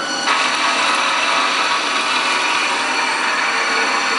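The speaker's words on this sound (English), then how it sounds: "Finish off with a little ID boring here." A Quickset GT tool holder setup ID-bores a bushing on a lathe, producing a continuous, loud, steady machining whir with a brief clunk at the start and no talk over it.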